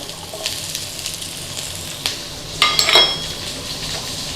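Garlic and chillies frying in a pan for Chicken 65, with soft sizzling under clinks of a utensil against the pan and a brief louder clatter of stirring near the end.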